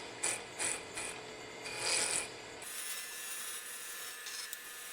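A spindle gouge cuts a wooden finial spinning on a lathe, with a few short scraping rasps followed by a steady quieter hiss of the tool on wood, close and clear.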